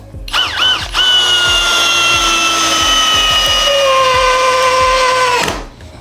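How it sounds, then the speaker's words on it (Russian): A SKIL DL6300D flip cordless drill set to maximum power spins up loudly and runs steadily at high speed for about five seconds with a whining tone, then winds down and stops. "Давайте на сверление поставлю на максимальную мощность"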